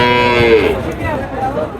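A single long cow moo rises close by at a cattle market, blending into nearby human voices as it fades.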